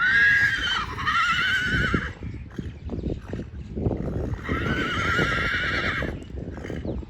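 A stallion neighs loudly twice while being crossed with a mare at a farmhouse, long high whinnies separated by a pause, over a busy outdoor background of rumbling and clattering.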